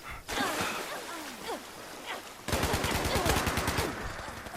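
Rapid video-game gunfire bursts out, sparse shots first and then a dense automatic volley in the second half, loud and close, with ambient background noise.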